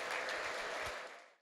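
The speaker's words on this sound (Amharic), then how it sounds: "እልልታ ጭብጨባ አንጡለት" A church congregation bursts into steady applause for God, a faint, dense clatter of many hands that holds evenly and then fades away.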